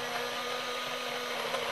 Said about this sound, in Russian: Теперь блендером взбиваем чеснок вместе с белками.